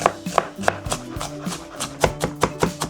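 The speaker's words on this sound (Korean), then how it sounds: "남은 양파 짜투리는 잘게 다져가지고 타코에 넣어주도록 할게요" Leftover onion is finely chopped with a knife on a board, a quick run of crisp, close taps in an uneven rhythm with no talking.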